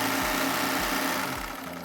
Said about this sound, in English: Here I am putting the shorts right sides together and sewing